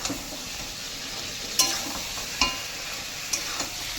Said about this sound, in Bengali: ভেজে রাখা পটল এইবারে ভালো করে কষাতে থাকবো যতক্ষণ না তেল ছাড়া